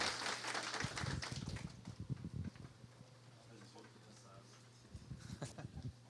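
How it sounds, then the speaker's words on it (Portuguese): An audience at a book launch for authors Filipe Bisael and Carol Melo applauds, a dense burst of clapping that tapers into scattered claps, with a steady low hum running under it. "uma salva de palmas para os autores, por favor"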